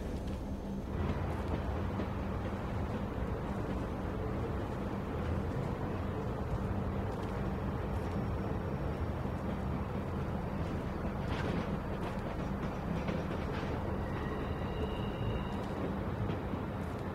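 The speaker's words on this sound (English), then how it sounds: "We need to stop this train." A moving train in The Walking Dead video game gives a continuous low rumble and rattle throughout, with no talking and a brief faint high whine near the end.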